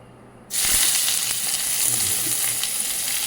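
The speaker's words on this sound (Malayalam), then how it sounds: "ഇതാ ഈ ഉള്ളി ഇടാം കേട്ടോ" Onion hits hot oil with a sudden loud sizzle that starts after a quiet half-second and then holds as a steady, close frying hiss with faint stirring, without any talking.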